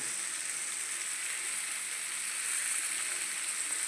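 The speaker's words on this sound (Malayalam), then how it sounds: "ഇപ്പോൾ ചാള നന്നായി പൊരിഞ്ഞു" Sardines fry in oil, sizzling continuously with a bright, hissing crackle, steady and fairly faint, with no voices.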